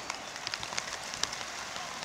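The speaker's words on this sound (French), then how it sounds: "Ça commence à ressembler à une vraie pluie." Rain falls on a hiking trail in Forillon Park, Canada, a close, steady patter of drops with scattered sharper ticks standing out.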